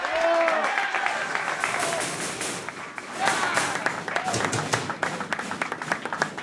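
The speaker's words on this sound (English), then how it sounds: "Just have a round of applause," Players of the Chicago Fire FC soccer team clap in the locker room after a rain-affected match, scattered clapping that builds into a quicker burst, with shouts and voices mixed in.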